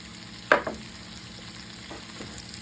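Seasoned cabbage fries in a pan for Southern fried cabbage, with a soft, continuous sizzle broken by one sharp stirring scrape and a couple of quieter clinks, close by and without speech.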